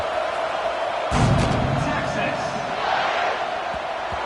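A football stadium crowd in the NCAA 26 video game roars in a surge that swells then settles into a sustained murmur, with a commentator's voice over it.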